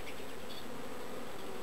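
Honey bees buzz steadily around an open hive during a midsummer inspection, a dense, continuous drone from small 4.9 downsized bees that arrived in a nuc, with no voices.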